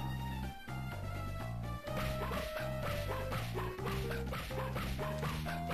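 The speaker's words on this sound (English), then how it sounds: "My dog is the superior dog." Dog barking sound effect from the video game Mother 3, a few bright yips over the game's continuous melodic background music.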